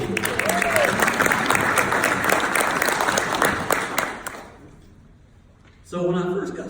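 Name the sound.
applause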